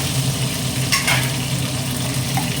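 Shallots for a fish curry sizzle and fry steadily in a hot pan, a close, continuous crackle with a brief scrape of stirring partway through and no talking.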